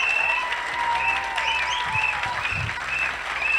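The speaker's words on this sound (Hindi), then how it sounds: "तालियां जोरदार बजाना सर के लिए।" An audience at a network marketing seminar applauds in steady, moderately loud clapping, with tonal background music running underneath throughout.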